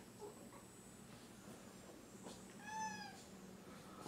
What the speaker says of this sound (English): Franklin Farm Cat